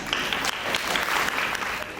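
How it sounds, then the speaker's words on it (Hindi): Loud, dense applause from an audience at a meeting of district officials with women village heads in Ranchi, steady clapping throughout with no talk over it. "इसके लिए उनके लिए एक बार जोरदार तालियां"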